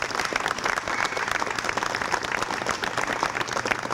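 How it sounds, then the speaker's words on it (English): Audience applause at a city event, dense steady clapping from a crowd, close and sustained throughout with no speech over it. "We want to give her a big round of applause."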